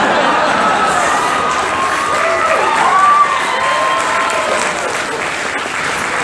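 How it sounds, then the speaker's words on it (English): Loud, sustained applause from an anime convention panel crowd, with many hands clapping and cheers and shouts mixed in, some voices rising above the noise. "Big round of applause"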